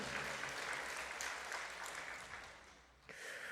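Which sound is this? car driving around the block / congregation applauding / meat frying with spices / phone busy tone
congregation applauding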